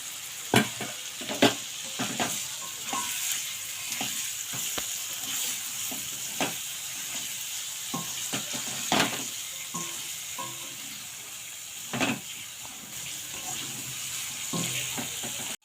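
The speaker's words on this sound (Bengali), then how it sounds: "এবার আমি ভেজে রাখা ডিমগুলো দিয়ে দেবো।" Fried eggs are stirred into a simmering egg curry in a pan, with a soft continuous sizzle broken by sharp clinks and scrapes of a spoon against the pan.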